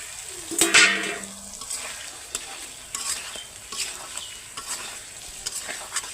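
Eggs and potatoes dropped into a pan of cooked-down spice paste, sizzling loudly at first, then stirred with repeated scraping strokes over a steady frying hiss.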